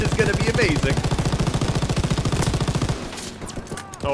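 Rapid, loud automatic gunfire from a World War II weapon in the Call of Duty WW2 video game, a sustained burst of evenly spaced shots that cuts off after about three seconds, followed by quieter battle noise.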